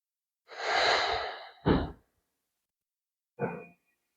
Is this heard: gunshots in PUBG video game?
no